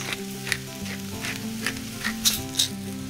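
Shredded Brussels sprouts seasoned with salt and pepper sizzle steadily in a hot pan, a close, continuous frying hiss with a few soft stirring taps and brief clinks along the way.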